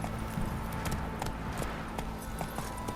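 Horse hooves clip-clop in a steady rhythmic trot in The Witcher 3 video game, with a continuous background bed of game ambience underneath.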